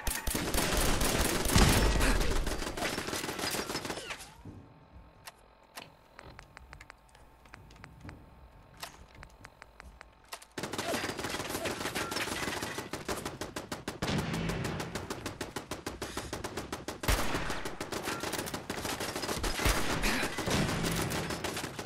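Rapid bursts of gunfire crackle in Fallout 4, dense volleys of shots that break off into a quieter lull of scattered pops, then resume as sustained, loud automatic fire.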